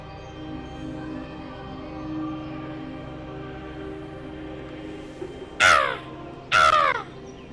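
Crows in the video game Everybody's Gone to the Rapture, two loud harsh caws close together near the end, over a quiet ambient hum with no talking.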